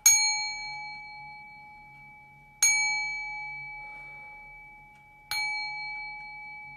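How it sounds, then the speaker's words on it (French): A gong rings out three times at slow, even intervals. Each strike is bright and metallic and opens with a sharp attack, then fades into a long shimmering tone before the next hit. "3 coups de gong."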